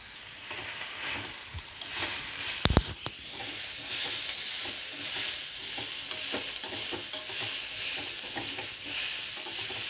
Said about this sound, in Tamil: கொஞ்சம் எண்ணெயில் வதங்கினா தான் டேஸ்ட்டாக இருக்கும்.